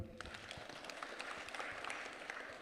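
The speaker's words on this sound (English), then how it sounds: "Can we clap for them?" An audience at a church youth career fair claps for the elders, a fairly quiet but steady round of many hands with scattered sharper claps and a faint crowd murmur.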